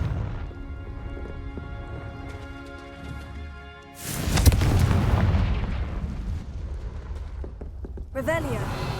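A Confringo fire spell in Hogwarts Legacy lets off a sudden loud blast that rumbles and crackles for a few seconds, followed by a lighter whoosh, over a background of game music.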